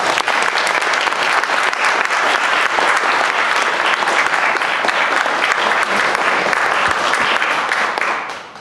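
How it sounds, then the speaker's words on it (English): Sustained, loud applause from a university student-chapter audience after a job discussion panel, dense and steady for about eight seconds before tapering off at the end. "I think the whole panel deserves a round of applause."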